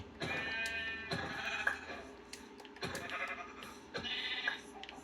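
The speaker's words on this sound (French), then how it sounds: "Oh, du mouton." Sheep bleating in the Minecraft video game, several harmonic bleats recurring across the stretch at steady loudness, close and clear over faint background game ambience with no talk.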